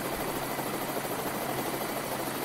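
A helicopter in the Planet Explorers video game flies with a dense, constant whooshing rotor roar that fills the whole stretch without break.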